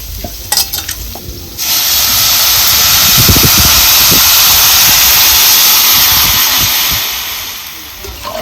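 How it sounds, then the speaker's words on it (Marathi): Water poured into a hot pan of pea curry sets off a loud, close, sustained hiss and sizzle lasting several seconds, then fading as it settles, after a few clinks of utensils. "आता जेवढं आपल्याला पातळ पाहिजे की घट पाहिजे त्यानुसार आपल्याला आता ह्याला पाणी घालायचं"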